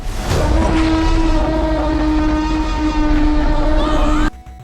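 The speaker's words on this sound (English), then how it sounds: "Did I get you with the jump scare?" A sudden, loud jump-scare sting for a horror-style dinosaur scene: one sustained, blaring horn-like tone that holds steady for about four seconds, then cuts off abruptly.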